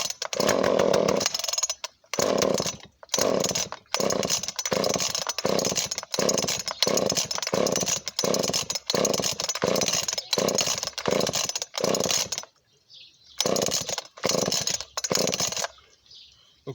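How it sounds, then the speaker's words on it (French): A flooded chainsaw is pulled over repeatedly without catching, giving about a dozen loud, evenly spaced pull-cord strokes with a short pause near the end and no running engine. "là vous voyez, elle démarre pas. Elle commence à sortir l'essence, elle commence à être noyée"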